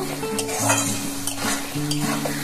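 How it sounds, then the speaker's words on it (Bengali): Fried potatoes and pointed gourd are stirred in a spice masala in a pan, with a loud close sizzle under repeated scraping strokes of a spatula against the metal and a ringing tone from the pan. "এখানে দিয়ে আবার 2 মিনিট মতো আমি ভালো করে নাড়াচাড়া করে নেব"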